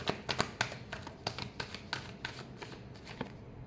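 Tarot cards are shuffled close by in a quick, even rhythm of soft riffling taps that runs for several seconds without talk.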